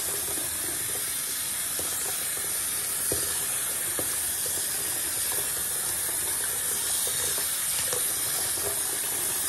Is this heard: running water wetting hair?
yes